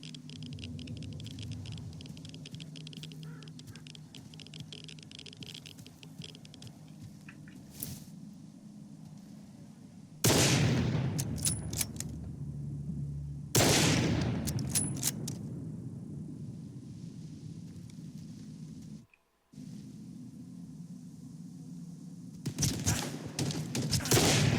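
Bursts of automatic gunfire from a firefight in the S.T.A.L.K.E.R. 2 video game against Monolith fighters, loud close volleys separated by quieter stretches of low ambient rumble, with several sharp shots near the end.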